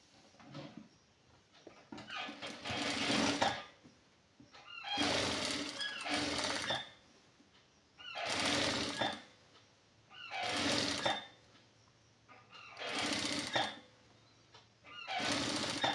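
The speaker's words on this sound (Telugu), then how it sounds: "దీనికి రెండో కుట్టు కూడా వేసుకుంటున్నాను." Sewing machine stitching a second seam on a khadi silk shirt, running in six steady bursts of a couple of seconds each with short pauses between, close and clear with no talking.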